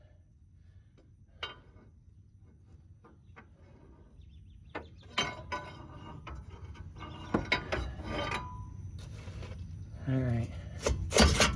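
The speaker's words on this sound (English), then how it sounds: "Let's see if we can finish prying it out" A front axle dust seal on a 2006 Ford F-250 is pried out, giving scattered scraping, rasping and metallic clicks that grow busier and louder toward the end, with a brief spoken remark early on.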